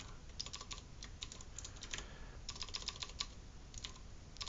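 Quick, irregular clatter of computer keyboard keys during a coding session, soft and close, with bursts and short pauses throughout and no talking.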